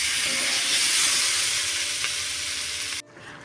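Soybean chunks for curry fry in a pan with a loud, continuous sizzle that stops abruptly near the end, leaving a quiet hum with no voices.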